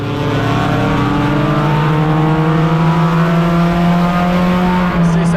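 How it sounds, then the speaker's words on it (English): Hornet race cars at Tucson Speedway roar as the race starts, loud engines rising together in a sustained drone of accelerating cars. A commentator talks over the noise. "Pace truck drops down and we're ready to go racing in 3 and 4."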